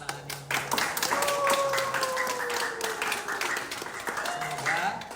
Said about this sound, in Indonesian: mari kita berikan tepuk tangan yang